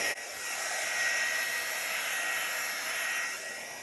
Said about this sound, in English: I'll just give it one last hit with the heat tool